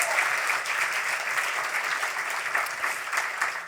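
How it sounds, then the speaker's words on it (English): Audience applause at a literary awards gala: a sustained round of clapping from a seated crowd, dense and even, moderately loud and continuing for several seconds without talk. "Let's give all four of them a nice round of applause"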